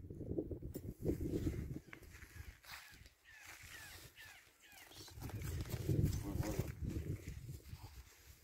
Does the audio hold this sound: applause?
no